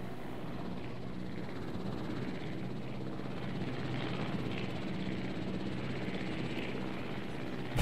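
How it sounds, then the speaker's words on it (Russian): Helicopter speeding up in the video game Jurassic World Evolution, a steady rotor whir and engine drone that builds slightly in strength over several seconds, moderately loud and continuous. "Вертолет набирает скорость."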